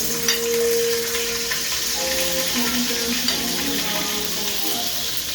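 Onion and garlic frying in a pot for egg curry, a steady close sizzle with crackling that runs unbroken throughout, with no talk over it.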